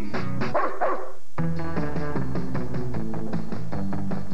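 A few quick barks up front, then music with a steady beat and chords carries on alone.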